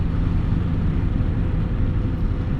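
A Mazda Miata making 240 wheel horsepower drones with a loud, steady low rumble heard from inside the car while driving, with no other sounds on top.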